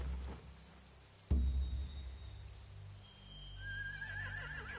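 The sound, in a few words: horses neighing in The Walking Dead video game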